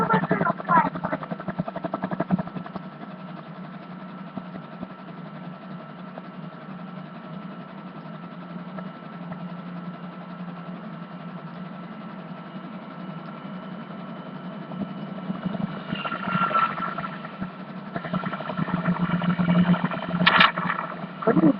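Steady droning engine of a plane in the video game GTA 5, a continuous hum that swells near the end, heard alone without talk.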